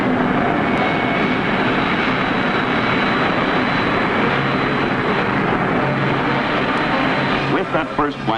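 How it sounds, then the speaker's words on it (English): The first American jet plane, flying in 1942, roars in a steady, broad engine drone from old original film, constant and fairly loud with a few faint knocks near the end. "These are the original films of the first jet plane ever to fly in America."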